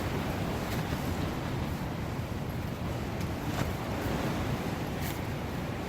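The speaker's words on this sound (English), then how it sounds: "The wind is incessant." Strong wind roars steadily around a tent at the Hanging Rock campsite in the Blue Mountains, a dense, unbroken rush with occasional brief gusts and no voices.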